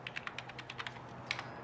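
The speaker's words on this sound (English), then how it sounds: "Typing." Someone types on a computer keyboard, a quick irregular run of soft, close key clicks with no voices.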